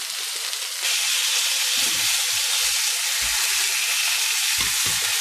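Vegetables, onions first, hit a hot pan beside browned meat and set off a loud, steady sizzle that swells when they land and keeps hissing, with a few soft stirring scrapes and clunks beneath it.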